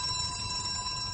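An electric bell rings continuously with a steady metallic tone for about a second, summoning a servant in a stage drama.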